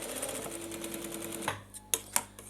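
Sewing machine stitching trouser fabric, a steady rapid whirring run that stops, followed by a few sharp clicks and taps close by.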